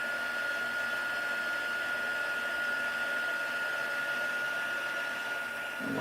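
Heat tool melting embossing powder on a stamped Christmas card, a steady loud blowing whir with a constant high whine, running unbroken and close throughout.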